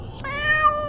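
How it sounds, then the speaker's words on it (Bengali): A black cat gives a single drawn-out meow that rises and falls over about a second, close by, clear against a quiet night background. "ঘুম ভেঙে গেল বিড়ালের আওয়াজে"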